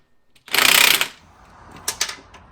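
Ratchet wrench working loose a stubborn bolt during a lift install on a Jeep Grand Cherokee WJ Overland, a loud dense burst of rapid clicking followed by a few shorter ratcheting bursts, close up with no talk.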